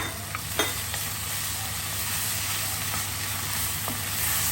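Black beans sizzle and crackle in a hot pan, with a couple of scrapes of a spoon; a steady, close frying hiss with no voices.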